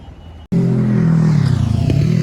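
A truck hauling a Northline trailer rolls past at St Marys in Sydney, Australia, with a loud, steady, low engine drone that starts abruptly and stays close for a couple of seconds.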